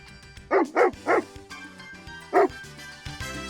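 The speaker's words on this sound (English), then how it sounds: "Yes, a dog." A dog barks three times in quick succession, then once more after a pause; the sharp, close barks stand alone over a quiet background, played as a sound to identify in a kids' listening game.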